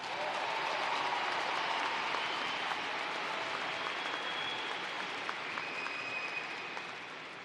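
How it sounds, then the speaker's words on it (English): Sustained applause from a large crowd at a university commencement ceremony, a steady broad wash of clapping holding for several seconds and tapering slightly toward the end. "So could you please give them a round of applause?"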